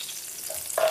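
Beef stroganoff strips sizzling in a hot, smoking frying pan, a steady close hiss with a brief sharper crackle near the end, no talking.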